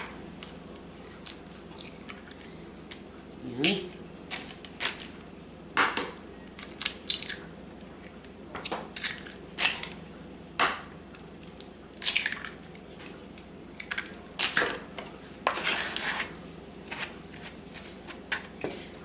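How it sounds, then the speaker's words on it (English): Three eggs are cracked into chocolate cake batter in a home kitchen. There are close, repeated sharp cracks, with wet squishes and drips between them, and no one speaks. "So I'm going to add my 3 eggs."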